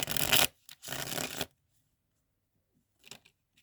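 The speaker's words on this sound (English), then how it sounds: "I just shuffled my whole deck all weird" A deck of Mythic Tarot cards is shuffled close up in two quick riffling bursts, followed by silence and a faint soft card tap.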